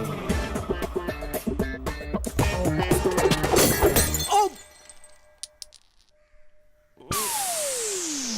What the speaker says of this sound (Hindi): भैया, कॉफी का कप टूट गया।